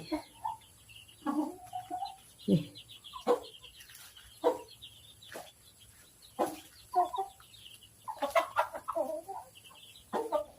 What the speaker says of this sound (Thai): แม่ไก่